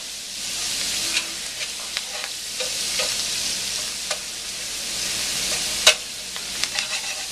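Celery, carrot and onion sizzle steadily in a large hot frying pan, a constant bright hiss broken by occasional scraping clicks as they are stirred; no voices.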